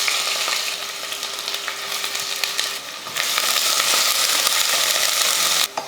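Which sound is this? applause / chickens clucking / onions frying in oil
onions frying in oil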